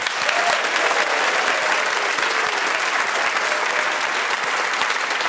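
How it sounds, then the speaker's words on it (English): A radio theatre audience gives a genuine round of applause during a quiz show, loud, dense and steady clapping from many people, sustained evenly from start to finish. "This is a genuine radio theatre round of applause."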